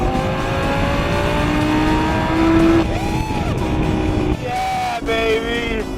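A 2012 Lamborghini Gallardo LP 560-4 Spyder at full throttle gives a loud, close engine howl that climbs through the revs, with gear changes marked by brief dips before the pitch rises again.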